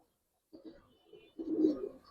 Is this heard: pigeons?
yes